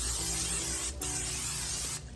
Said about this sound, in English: Just olive oil spray.